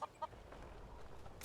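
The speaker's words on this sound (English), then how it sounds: "It sounds like they have chickens." Chickens cluck faintly in the distance in a video game world, two brief quiet clucks at the start over steady low ambient background hiss.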